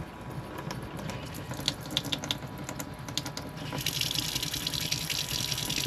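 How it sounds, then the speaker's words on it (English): A small RV water pump hums and pulses close by as water runs and splashes, the flow growing louder and steadier partway through. "show you guys this water pump before"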